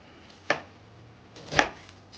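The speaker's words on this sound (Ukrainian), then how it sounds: "Цибуля в цьому рецепті буде нарізана півкільцями, і то такими не тоненькими." A knife slicing an onion into thick half rings, with two crisp cuts about a second apart against a board, close and clear over a quiet room.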